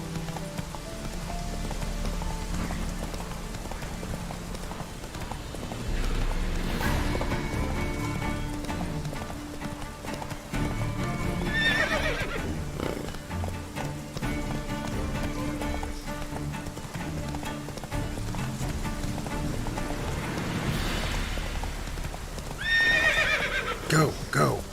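Roach, the horse in The Witcher 3 video game, gallops with steady clip-clop hooves amid rain, letting out loud whinnies partway through and near the end; someone talks at times over the sounds.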